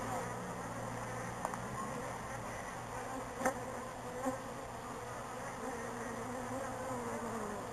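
A steady, low drone of buzzing bees during a bee removal hums throughout, with a couple of brief sharper buzzes as insects pass close; no one speaks.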